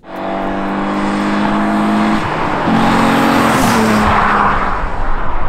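Engine of a modified white Alfa Romeo 147 GTA revving up to 5000 rpm, a loud, close, steady droning roar that climbs in pitch and holds high near the end.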